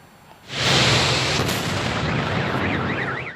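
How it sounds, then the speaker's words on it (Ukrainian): Fuel tanker fire at a gas station in Kropyvnytskyi: a sudden loud blast gives way to a sustained, heavy roaring rumble, and a car alarm wails in the background near the end. "ось такі потужні вибухи учора ввечері сколихнули весь Кропивницький"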